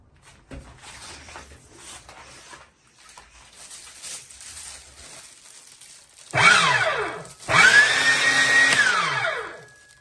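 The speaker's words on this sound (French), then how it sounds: "ce n'est pas un hachoir à viande, c'est un coupé légumes électrique" An electric vegetable cutter runs in two bursts near the end, each a loud whirring motor drone that rises and falls, after a quieter stretch of faint handling noise.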